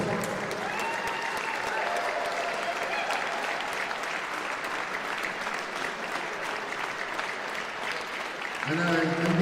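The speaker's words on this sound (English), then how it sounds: "Really big round of applause to all the referees that make this tournament possible." A large crowd applauds the referees at a goalball tournament in a gym, a continuous dense clatter of clapping with some crowd noise, ending as a voice begins to speak over it near the close.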